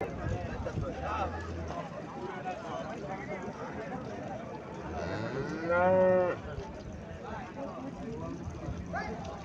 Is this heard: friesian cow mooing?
yes